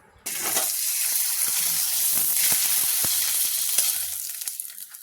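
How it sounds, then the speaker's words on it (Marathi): Sabudana and potato papad sizzle and crackle steadily in hot oil, a dense continuous frying hiss starting abruptly and holding loud throughout, with small pops and bubbling near the end. "फ्राय करूया तेलामध्ये."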